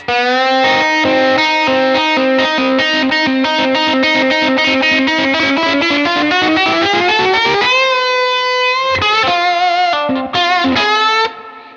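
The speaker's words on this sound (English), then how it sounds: "I love this harmonica lick on slide guitar." Sliding electric slide-guitar notes bend and wail like a harmonica, a distorted, sustained lick played loud and alone with a brief pause near the end.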